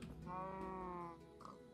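Sheep bleating in Minecraft: a single drawn-out, wavering bleat lasting about a second, clear and close, followed by a shorter second bleat, with no talk over it.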